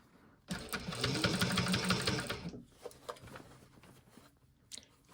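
A sewing machine stitches a Santa boot stocking in one loud burst of about two seconds, then stops, followed by quiet fabric handling and small clicks.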